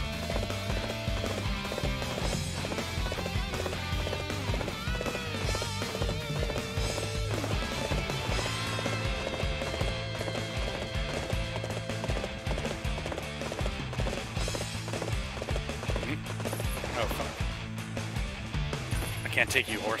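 Horse hooves clip-clop at a gallop with a whinny in the Dynasty Warriors 8 video game, running steadily under dense, continuous game music and effects, with someone talking over it.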